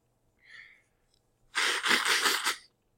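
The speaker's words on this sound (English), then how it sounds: "All that sneezing loosens everything up." A person sneezes once, loudly and up close, in a sharp burst after a brief faint intake of breath, alone without talk.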